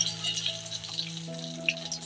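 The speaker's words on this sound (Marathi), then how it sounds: "तेल तापलं की त्याच्यामध्ये 1 कलमी, 4-5 लवंग आणि 2 तमालपत्र घेतलेले आहेत" Cinnamon stick, four or five cloves and two bay leaves sizzle steadily in hot oil in a pan while palak paneer is being made, a close, continuous crackle with small pops and no voices.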